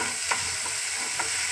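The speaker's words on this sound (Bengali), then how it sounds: "পেঁয়াজ অল্প ভাজা হয়ে গেছে অল্প অল্প করে, এবার ওর সঙ্গে পড়ছে গাজর আর ক্যাপসিকাম" Onion, carrot and capsicum stir-fried in a pan, with a steady soft sizzle and two brief scraping stirs of the spatula, close and fairly quiet, no voices.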